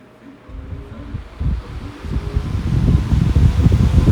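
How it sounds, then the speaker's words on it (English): A 20-inch high velocity fan running at full power gives a low, gusty whoosh that builds from quiet into a steady, loud rumbling airflow up close. "Very powerful fan."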